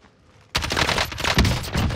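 Suppressed gunfire in the video game Call of Duty Warzone erupts after a brief quiet, a dense, loud burst of rapid shots continuing without pause to the end.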